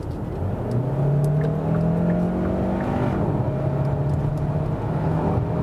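A Hyundai Santa Fe hybrid in sports mode accelerates hard from 50 km/h on the autobahn, its combustion engine and electric motor together giving a rising engine drone and a climbing whir under a steady cabin roar, loud and continuous.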